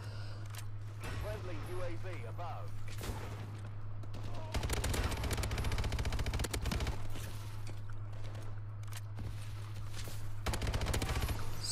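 Rapid automatic gunfire and scattered shots in an online Call of Duty: Advanced Warfare match on the Detroit map, with bursts growing denser midway over a steady low game hum and other game sounds.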